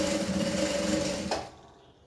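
A sewing machine stitches binding onto a gown sleeve, a dense steady motor hum with needle chatter that ends with a click and fades out.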